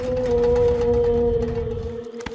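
A cartoon voice imitates the plaintive song of a beluga whale, one long, steady, mournful hum held for about two seconds before breaking off, close and loud.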